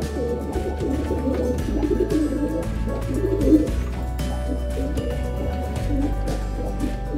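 Arab pigeons coo in a loft, their soft, low, throaty calls repeating and overlapping at close range. A faint steady hum sits beneath them.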